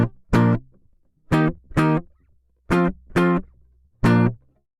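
Guitar notes played dry and sent through a homemade metal plate reverb picked up by a contact mic. Seven bright, separate plucked notes come in small groups, each with a metallic tail that fades between them. No voices.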